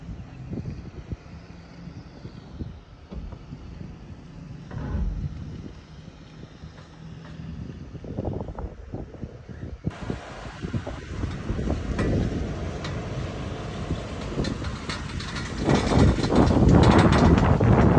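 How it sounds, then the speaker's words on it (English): A Toyota 4Runner's mechanical noise rumbles and whirs continuously with wind buffeting, growing louder and rougher toward the end. "what you're watching is the 4Runner. I was trying to record the sound, so when I took it to the mechanic, I could show them"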